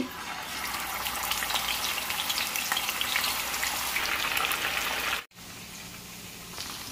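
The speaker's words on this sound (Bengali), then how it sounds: "এখন আমার তেল গরম হয়ে গেছে। এখন আমি চিকেনগুলো ভেজে নিব।" Chicken pieces fry in hot oil, giving a dense, loud sizzling hiss close up, followed by a sudden brief cut and then a quieter continued sizzle.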